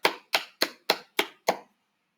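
Six sharp hand claps in an even, steady rhythm, a group applauding as a thank-you to community helpers such as sanitation workers, close and loud with no talking.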